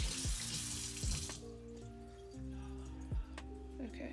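Water poured onto a potted basil plant in a home kitchen, a close, continuous splashing trickle that fades into soft dripping and soaking sounds against a steady background hum.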